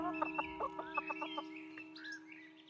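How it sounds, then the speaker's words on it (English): Chickens cluck in the medieval-styled video game Pentiment, a quick run of short, sharp clucks over a steady musical drone, followed by a few higher chirping calls, moderately loud with no talking. "Look at those chickens!"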